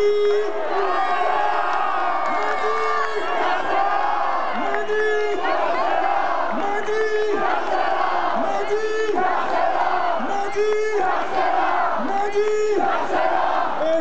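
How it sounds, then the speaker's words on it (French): Crowd of Standard de Liège football supporters in Place Saint-Lambert, Liège, celebrating a Belgian Cup win, loud continuous rhythmic chanting and cheering from a large mass of voices, repeating in waves and sustained throughout. "applaudissez Mehdi."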